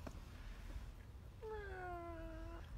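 A person imitates a cat with a single drawn-out meow, clear and falling in pitch, preceded by faint clicks in a quiet room.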